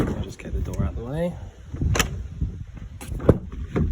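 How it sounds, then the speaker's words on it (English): A motorhome cab door is opened close by, with a latch clunk and a sharp knock among handling noises, while a voice speaks briefly. "I'll just get the door out of the way."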